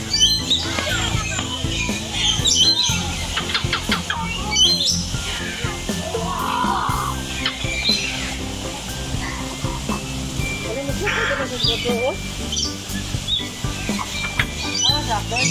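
Birds call and chirp at the Cebu Safari and Adventure Park, scattered tweets and squawks over a busy outdoor crowd, with people talking throughout.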